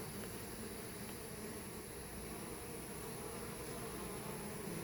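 Several bumblebees buzz steadily around a hive being fed its own honey, a continuous drone close by with no talking.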